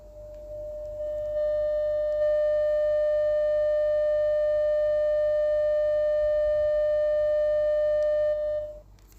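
A steady pure sine tone for cleaning a phone speaker hums continuously for several seconds, fading in and cutting off at the end, with a faint low rumble underneath.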